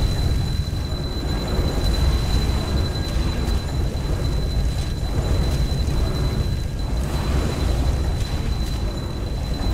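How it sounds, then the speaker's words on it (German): Rocket launcher blasts in the video game ARK rumble on without a break, heavy and loud booms blending together under a thin, steady high whine. "Also ich schieße mit dem Rocket Launcher gerade drauf zu dir."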